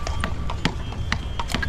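Horse hooves clip-clop steadily on a ride at the Egyptian pyramids, several distinct nearby strikes in an uneven rhythm over low background rumble.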